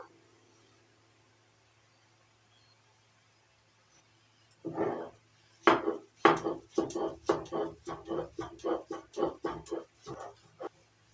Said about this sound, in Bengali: এবার চিংড়ি মাছগুলো বেটে নেব